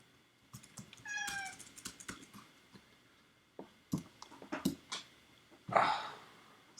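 A cat meows a few times near a microphone during a coding live stream, with short tonal cries and some soft clicks and handling noises between them in a quiet room.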